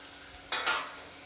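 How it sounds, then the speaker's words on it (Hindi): Roughly chopped tomatoes going into a hot pan with frying eggplant and peas, a sudden short burst of sizzle that quickly fades over a low background hiss. "अब मैं इस स्टेज पे डाल दूँगी रफली चॉप किया हुआ टमाटर"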